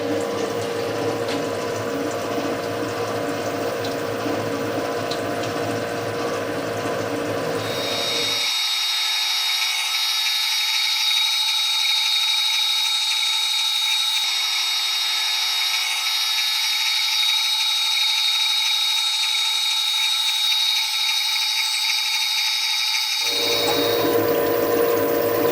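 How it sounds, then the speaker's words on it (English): A machine drills and taps holes in a USB connector standoff, giving a steady, loud mechanical whine with coolant hiss that runs continuously, with a noticeable change in tone midway and again near the end. "The holes have been drilled and tapped."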